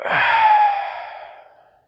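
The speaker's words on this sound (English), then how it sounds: "And breathe out." One deep, slow exhalation during a conscious breathing exercise, a close breathy sigh that swells quickly and then tapers off gradually into silence.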